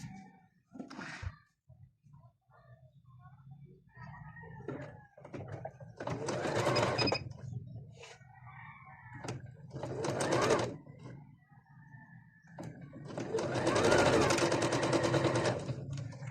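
Home sewing machine stitching a side seam on a shirred halter top, running in three loud bursts of rapid, steady needle clatter separated by pauses with faint handling noise.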